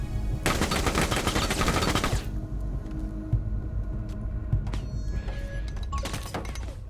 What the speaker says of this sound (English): Kane just non-stop throwing bullets down range trying to get that kill